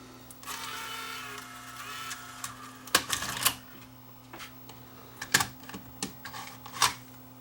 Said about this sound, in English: So let's eject the tape.